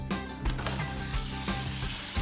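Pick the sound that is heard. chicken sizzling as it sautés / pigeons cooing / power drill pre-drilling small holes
chicken sizzling as it sautés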